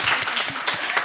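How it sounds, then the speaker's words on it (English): Steady applause from a telethon audience after a song performance, dense clapping throughout without pause, fairly close and even in loudness. "Let's give them one more round of applause,"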